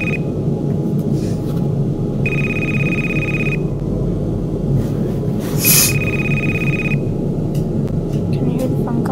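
In a video game, a steady electronic telephone ring sounds twice in long bursts, with a pause between them, over a constant low rumbling background.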